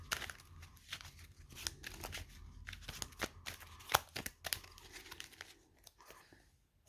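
Deck of cards shuffled by hand while setting up a dinosaur-themed board game, with repeated papery riffles and crisp slaps, close and fairly quiet, with no voices.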